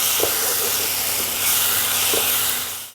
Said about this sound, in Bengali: আদা রসুন কাঁচা লঙ্কা গোটা ধনে ধনে পাতা পেস্ট সব এবার আমি কষিয়ে নেব